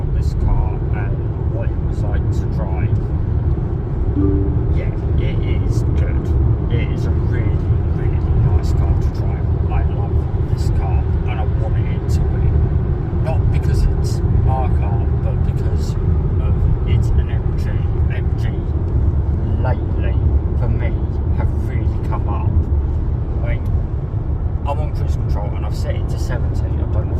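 A car cruises on the motorway, a steady low engine and road drone filling the cabin, with someone talking over it throughout.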